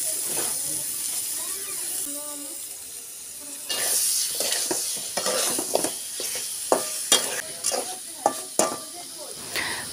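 Pangas fish sizzles and hisses in hot oil while being stirred and scraped in a pan, with a steady frying hiss and intermittent clinks of the utensil, heard up close.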